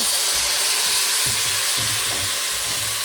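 Soup simmering in a pot after bay leaves and canned tomatoes go in, a steady bright sizzle with soft low knocks from the spoon as it is stirred.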